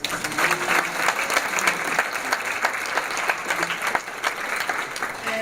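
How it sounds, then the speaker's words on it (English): Audience at a college scholarship awards ceremony applauds steadily, a dense sustained clapping from a large crowd that holds for several seconds with no talk over it. "Please give yourselves a round of applause."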